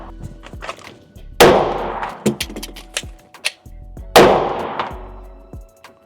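Two sharp, loud pistol shots about three seconds apart ring through an indoor range during IDPA practice, each followed by a decaying echo, with clicks and clatter of handling the gun between them.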